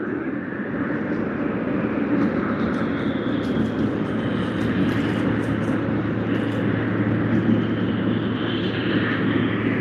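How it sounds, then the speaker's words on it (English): Air Canada Boeing 777-200LR airliner at Sydney Airport, a continuous dense jet-engine rumble and whine holding steady and fairly loud throughout, heard on its own without voices. "Air Canada on screen. Vancouver to Sydney on the Boeing 777-200 long range LR."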